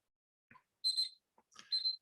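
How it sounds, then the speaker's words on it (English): Egg timer ringing in two short bursts of high electronic beeping, close and fairly quiet against an otherwise silent room, with faint clicks before each burst. "That is my egg timer going off."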